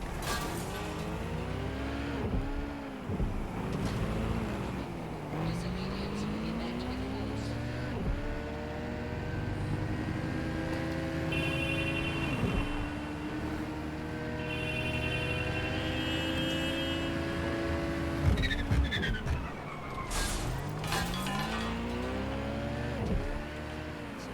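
A car driven in the video game Watch Dogs: Legion, its engine revving up and down in repeated rising and falling sweeps, with a tire squeal or two, loud and continuous throughout with no talk.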